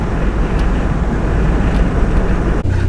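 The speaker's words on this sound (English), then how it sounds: "Look at the wind blowing the palm trees up." Strong wind buffets the microphone on the Southend sea front, where it blows the palm trees about, making a loud, continuous low rumble with gusty surges and no voice.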